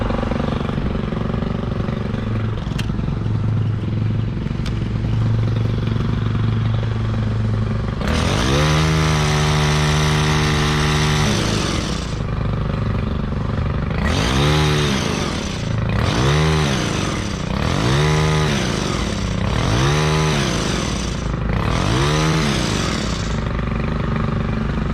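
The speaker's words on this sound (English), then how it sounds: "The Stihl is running awesome" A Stihl KM 91R kombi engine trims bushes, droning steadily at close range, then revving hard in a long burst and then in several repeated surges with brief drops back toward idle between them.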